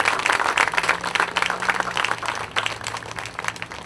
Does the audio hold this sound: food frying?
no